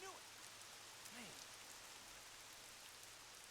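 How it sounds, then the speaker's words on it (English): Rain falling in the video game Lost Odyssey, a quiet continuous patter with a few faint tonal chirps early on, no talking over it. "Oh, great. It's raining."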